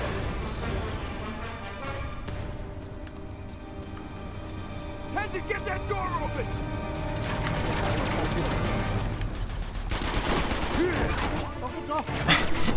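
Bursts of gunfire in Uncharted 2: Among Thieves, with rapid volleys and machine-gun rattle mixed with mechanical clanks amid game noise, under a voice talking over the action.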